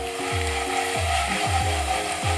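Steady sizzling and crackling of potatoes and eggs frying crisply in a hot pan, with a few soft scraping stirs, close and continuous.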